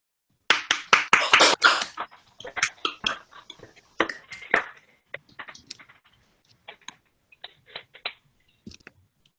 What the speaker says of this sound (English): I'm gonna invite all of the fellows to unmute and give yourselves and each other a round of applause